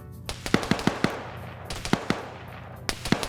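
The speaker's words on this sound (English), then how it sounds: "Some shots coming up over here." Video game gunfire cracks out in quick uneven bursts, several sharp shots close together, then a brief pause before more rapid reports, loud and fairly near.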